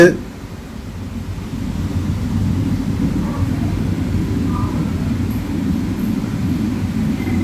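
A steady low rumble of trains at Tambaram railway station in Chennai, where express and goods trains stand, is heard continuously and fairly loud, like a moving suburban train, with no clear voices over it.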